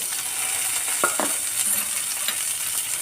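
Ginger, garlic and onion sautéing in a pan for chana masala make a soft, steady sizzle with a couple of quick metallic utensil clinks partway through.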